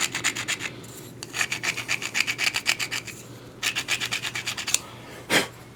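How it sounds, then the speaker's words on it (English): Close, rhythmic rasping strokes as the edge of a Cub Cadet snowblower carburetor part is scraped down, coming in quick bursts of filing-like rubs separated by short pauses, with no talking. "Just scraping the edge off of this here."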